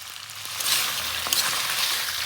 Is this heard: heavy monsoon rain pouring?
no